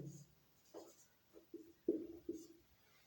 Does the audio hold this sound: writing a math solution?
yes